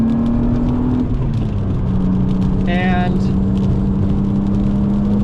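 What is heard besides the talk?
BMW M3 engine driving on a race track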